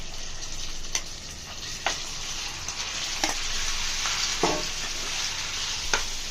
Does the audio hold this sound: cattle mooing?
no